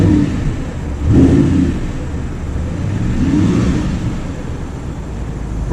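A naturally aspirated V8 in an Audi R8 revs hard, a loud, steady engine roar swelling and easing in several surges close by.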